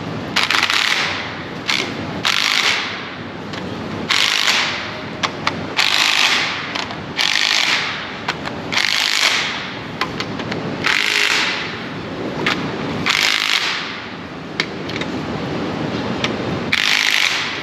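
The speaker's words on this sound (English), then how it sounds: "Torque wrench ready for me, Aiden." A torque wrench ratchets on a Procharged LS-swapped Chevelle in a garage: repeated bursts of quick, close metallic clicking separated by short pauses.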